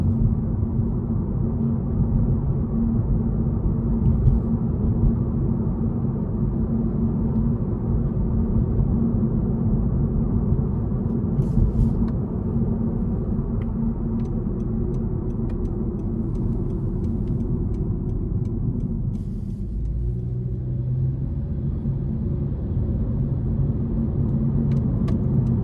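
Road noise inside a 2026 Honda Civic Hatchback Sport 2.0 while driving: a steady, low tire-and-pavement rumble with a faint engine drone that stays even throughout.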